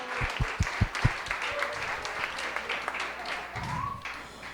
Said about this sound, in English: One final round of applause for all of you and for all our people